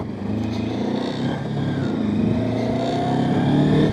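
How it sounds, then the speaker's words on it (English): Acceleration from a Sinnis Terrain 380 motorcycle with a 400cc parallel-twin engine: a loud, continuous engine note that climbs steadily in pitch through the gears, close up and unbroken by speech. "The acceleration is brisk on this bike for a 400 odd cc parallel twin."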